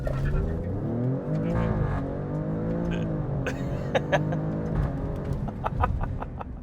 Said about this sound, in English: foot all the way down on the brake, give it some gas.